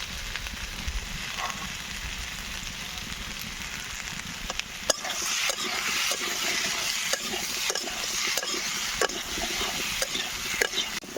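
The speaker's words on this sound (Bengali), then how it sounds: "দেখুন আমার আলু আর পেঁপেগুলো সুন্দর লাল লাল করে ভাজা হয়ে গেছে" Potatoes and papaya frying in a pan make a steady sizzling hiss that grows busier partway through, punctuated by sharp taps and scrapes of a stirring spoon, with no voices.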